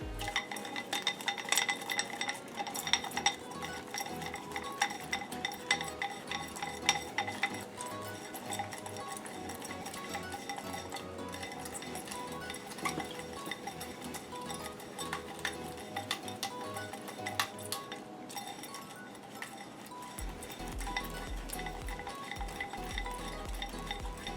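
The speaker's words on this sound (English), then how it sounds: "And now we whisk." A sweet and spicy sauce being whisked in a bowl in a home kitchen, with quiet rapid clinking and tapping of the whisk against the bowl, faint and steady amid low room noise.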